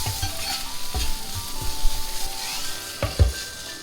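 Ginger and garlic sauté in a hot pan with a steady, close sizzle and frying hiss, broken by a few stirring knocks and scrapes of a spoon against the pan.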